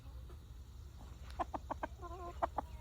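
A young rooster sold as a hen makes a short run of clucks and strained, croaky calls close by, several quick bursts over a faint background hum.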